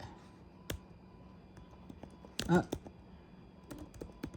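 Keys clack on a used computer keyboard bought secondhand, a few scattered taps and a short burst of clicks, close and moderately loud with faint room noise.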